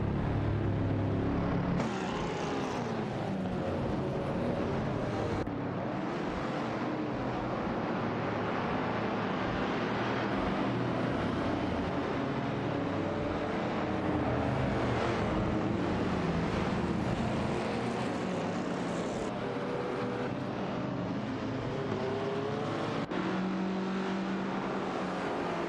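Racing car engines roar continuously in a video game race featuring a Ford Mustang, a dense, loud drone of several cars with shifting pitch and no pauses.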